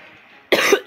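A man's single loud cough after a quiet stretch, a short second burst right at the end, close to the microphone.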